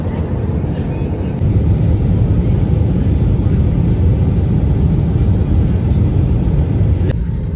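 An Air India airliner lands, heard from inside the cabin as a loud, constant engine roar. The roar swells slightly partway through and carries a brief rattle near the end.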